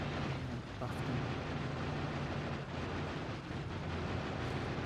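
Cannon shells exploding in Factorio: Space Age, heard as a continuous dense rumble of blasts and booms that stays loud throughout, with no clearly separate single hits.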